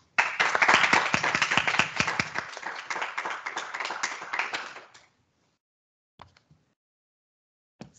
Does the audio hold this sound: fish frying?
no